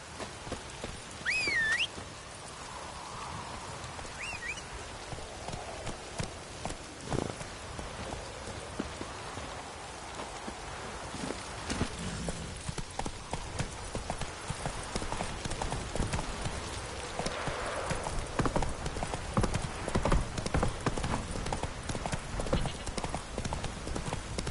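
Roach, a horse in The Witcher 3, trots with a steady clip-clop of hooves through continuous rain, the hoofbeats fairly close and even throughout, with a short whinny near the start.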